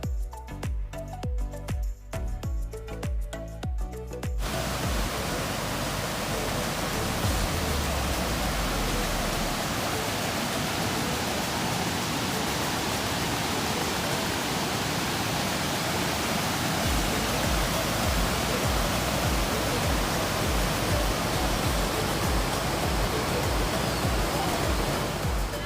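Triple Falls in North Carolina roars as a constant, full rushing wash of falling water heard from nearby, following a few seconds of other sound at the start.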